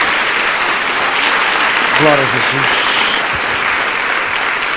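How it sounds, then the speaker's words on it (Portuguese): A church congregation applauds steadily throughout, loud and close, while a voice calls out a short praise phrase over the clapping midway. "Dê uma salva de palmas ao Senhor."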